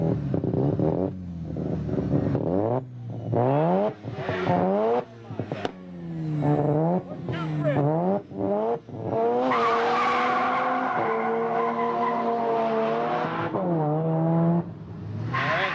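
Drag racing cars, a Mustang and a black Mazda, at the Waterford, Connecticut strip: loud engines rev and rise through repeated gear changes, with tire squeal, then a long sustained high-revving run near the end.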